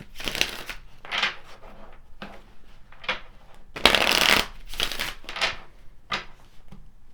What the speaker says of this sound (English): Let's pull some additional cards here.